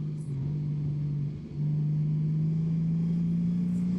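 A 2025 Honda Goldwing motorcycle engine roars steadily in fourth gear, a deep sustained drone with pitch rising gradually after a brief dip, loud and close with no talk.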